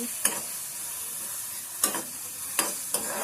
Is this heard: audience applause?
no